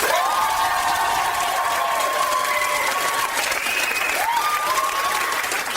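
Studio audience applauding loudly and steadily in a comedy panel show, casting a vote by clapping for a favourite invented idea; the dense clapping holds throughout, with a few whoops and cheers mixed in.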